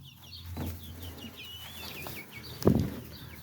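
Chickens and young roosters cluck softly nearby while small birds chirp in the background, with one louder rustling thump near the end.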